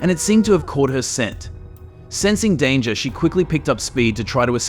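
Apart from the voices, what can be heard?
No distinct noise like a dog, phone or traffic.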